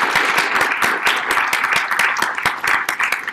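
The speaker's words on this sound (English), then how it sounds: "let's give our speakers a round of applause." Audience applause for panel speakers at a policy forum on Afghanistan, a dense, steady clatter of many hands clapping together, fairly loud and close, with no talk over it.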